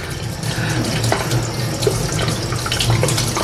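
Tap water runs steadily into a sink while a crab is rinsed and cleaned, a continuous close splashing with occasional small knocks and no talking.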